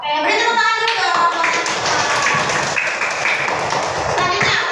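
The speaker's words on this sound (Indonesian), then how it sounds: "beri tepuk tangan dulu dong" Children clapping in an Islamic school classroom during a Qur'an lesson, a burst of hand claps that starts over a voice and carries on steadily at close range.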